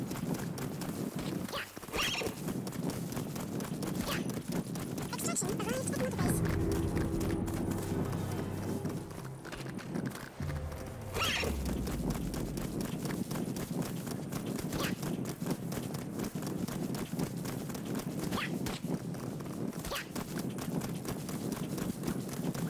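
A horse gallops in Metal Gear Solid 5, a rapid hoof-beat rhythm that runs through most of the stretch and breaks off briefly midway under rumbling game sound, with a short whinny.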